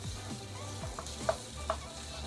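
Three tablespoons of butter melting in a pan, with a soft, steady sizzle and a few brief stirring scrapes and clinks from a utensil, close by and with no talk.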